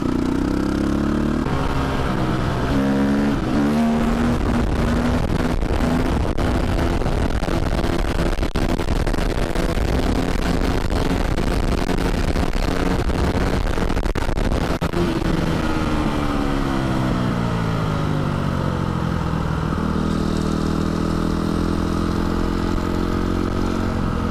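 A Loncin enduro motorcycle with a cracked frame rides over cobblestones, its engine droning steadily and rising and falling in pitch as it changes speed, with a constant rattling clatter from the rough surface, loud and close throughout.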